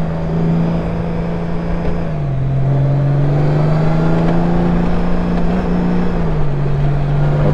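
Honda Goldwing DCT motorcycle engine droning steadily while riding, with its pitch stepping down and back up as gears shift, a continuous close hum throughout with no talk.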